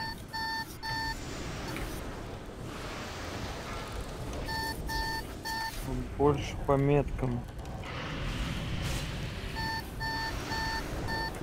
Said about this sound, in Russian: Это мой пульс пищит.